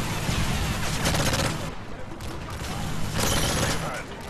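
Rapid gunfire from the video game Modern Warfare 3 crackles in dense bursts with mechanical clatter, fairly loud throughout, with brief lulls between volleys.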